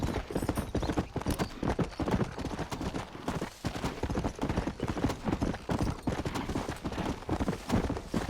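In Red Dead Redemption, horse hooves pound in a steady, fast clip-clop gallop, loud and close, running continuously with a faint whinny.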